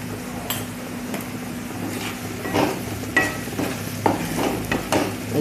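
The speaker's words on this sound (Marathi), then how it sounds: "एक 2 मिनटं परतून घ्यायचा आहे टोमॅटो" Tomato with salt being sautéed in a pan for a cauliflower and pea dish, a low steady sizzle with intermittent spoon scrapes and taps against the pan.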